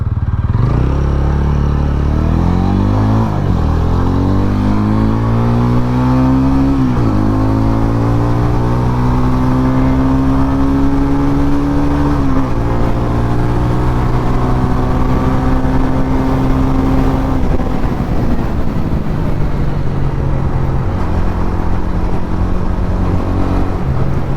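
A TVS Ronin entry-level cruiser motorcycle accelerates hard from standstill toward 100 km/h, its engine note climbing through several gear changes with short dips between, loud and close throughout without talk.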